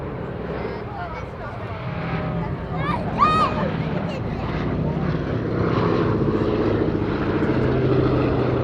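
A B-17 bomber, the Sally B, flies over at the Duxford summer airshow, its piston engines droning and slowly swelling louder beneath a commentator talking over a public address system.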